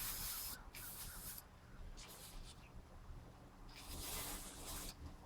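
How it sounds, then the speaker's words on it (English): Gunk brake cleaner spraying onto a Jeep Cherokee XJ steering shaft in quiet, breathy hissing bursts, several short blasts separated by pauses, recorded faintly at a distance. "I'll try this crappy brake cleaner."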